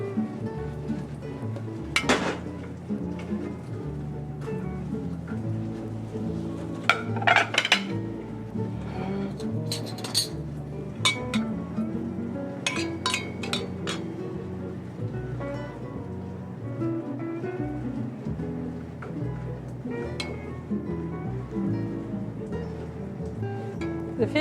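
Plates and cutlery clink intermittently while seared fish is plated with fern salad in a kitchen, scattered light clatters spread through, with music or a voice running beneath.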